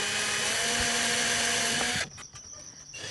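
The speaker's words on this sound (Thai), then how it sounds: "เขาก็จะเจาะนำร่องไปก่อนนะคะ โดยใช้สว่านตัวเล็กนะคะ" A small power drill bores pilot holes for screws in a simple DIY storage cabinet build, whirring steadily up close for two seconds before cutting off, leaving quieter handling noise.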